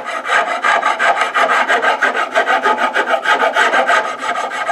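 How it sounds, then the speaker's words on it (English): A metal file rasps in steady back-and-forth strokes through a guitar's finish along the fretboard edge, cutting the tape bond; close, even, rhythmic scraping with no talk. "What you're doing is you're filing through the finish and breaking that bond between the tape and the finish."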